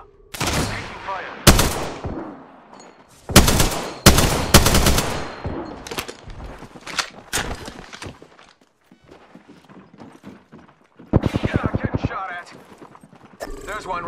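Bursts of gunfire in the Apex Legends shooter game crack out in sharp, rapid volleys, some close and loud and others thinner, with gaps of quieter footsteps and movement between them.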